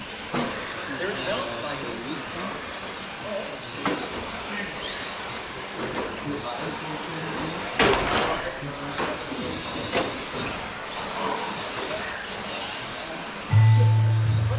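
Old X-Ray T4 radio-controlled touring car racing on a track among other cars, with high whining motor sweeps rising and falling repeatedly, sustained, under and alongside commentary.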